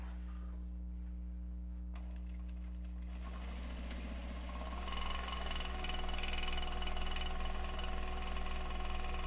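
A sewing machine stitching a custom bag from Japanese fabric, running steadily and close with a strong motor hum, its rapid needle rhythm picking up and growing louder partway through.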